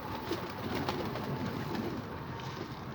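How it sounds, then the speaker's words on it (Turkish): Pigeons cooing softly nearby, repeated low throaty calls over a quiet ambient background. "Arkadaşlar kuşlar ötüyor ona."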